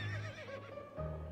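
A horse in the video game To the Moon gives a short whinny, a wavering neigh that rises and falls over a low background hum, clear and fairly close.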